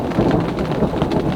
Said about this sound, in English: Plenty of thunder and lightning about.